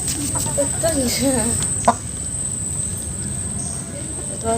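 Broiler hens cluck close by, a quick series of short throaty calls early on, followed by a farmyard murmur while people chat nearby.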